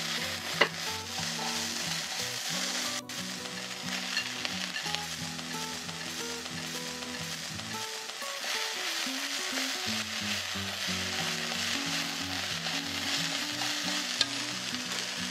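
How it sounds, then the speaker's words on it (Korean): Chive stems and pork are stir-fried in a hot wok for Chinese-style buchu japchae, giving a loud, continuous sizzle with constant scraping and tossing of the spatula throughout, close up and with no voices. "부추 줄기 부분을 넣어주세요. 약 10초 정도 볶아주시고"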